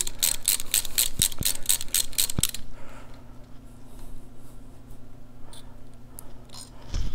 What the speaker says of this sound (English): we're going to go ahead and use our Allen socket 3/16 here